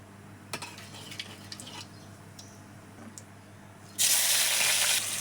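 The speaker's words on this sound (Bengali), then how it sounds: "কড়াইতে আমি সাদা তেল আর জিরে, শুকনো লঙ্কা দিয়ে, পেঁয়াজ আর টমেটো দিয়ে, মশলা দিয়ে কষাচ্ছি" Onion, tomato and spices fry in white oil with cumin and dried chilli in a wok, with faint ticks and clinks before a sudden loud, hissing sizzle bursts up for about a second near the end.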